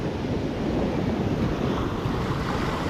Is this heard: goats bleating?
no